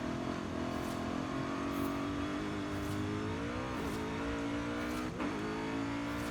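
A rear-wheel drive, underpowered car in Forza Horizon drones steadily under load, its engine note rising and falling slightly as it pulls along, with occasional brief tire noise, loud and continuous throughout.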